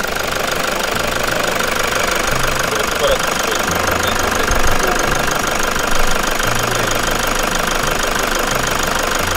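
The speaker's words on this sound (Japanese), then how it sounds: "アイドリングの状態で分かると思います。" A large farm contractor's machine engine idles, producing a steady, loud, rapid knocking diesel chug with continuous vibration throughout, and people talk faintly over it.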